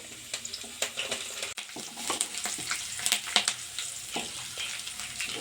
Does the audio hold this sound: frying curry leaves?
yes